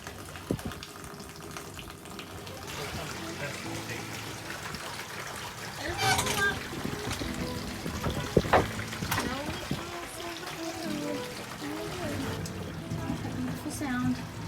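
Water pours into a motorhome's tank with a running, trickling splash, fairly quiet and intermittent beneath people talking close by.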